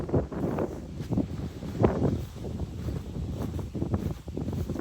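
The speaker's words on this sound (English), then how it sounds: "I hope you can hear me and that this wind is not too bad." Gusty wind buffets the microphone in a backyard garden among fruit trees and seedlings, rumbling in uneven low bursts that swell and fade throughout.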